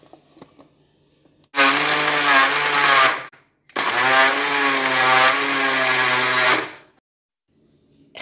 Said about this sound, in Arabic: غادي نطحنها في خلاط كهربائي حتى نحصل على